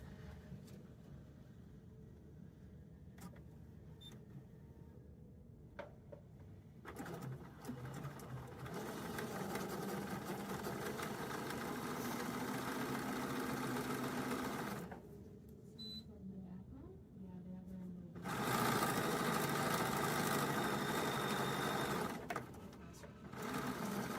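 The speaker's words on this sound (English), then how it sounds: "So I'll continue sewing and make that happen." Sewing machine stitching a snowman table topper, running in long steady bursts with brief pauses between, close and fairly loud, with someone talking at times.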